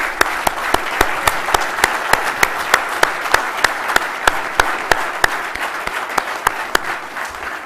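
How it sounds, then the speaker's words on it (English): Audience at a space exploration conference applauds a keynote speaker: dense, steady clapping from a large hall, with sharp individual claps standing out in a regular rhythm, continuing throughout without fading. "let me ask you to join me again in another big round of applause for our keynote speaker"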